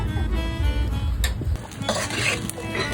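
Snakehead fish curry with its roe being stirred in a pan, with scraping, clinking spatula strokes against the metal over a low, steady sizzle and no voices.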